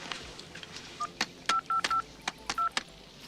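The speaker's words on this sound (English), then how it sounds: "Want me to dial for you?" A telephone keypad is dialed, giving a quick series of distinct touch-tone beeps in an uneven rhythm, clear and close against a quiet background.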